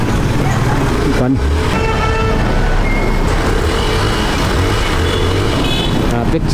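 City road traffic between Pasay and Manila, a dense, constant roar of car and truck engines close by with occasional beeps and horn toots, and someone talking over it.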